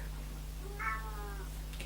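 A house cat gives a single clear meow of about a second, moderately loud over a steady low hum in a kitchen, with no talking.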